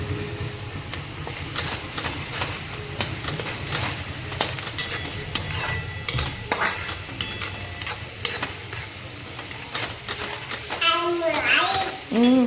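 Steady sizzling and stirring of black masala in a hot pan, a continuous hiss with scraping clatter, while a voice and some talk come through near the end.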